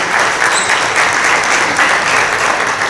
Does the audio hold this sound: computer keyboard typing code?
no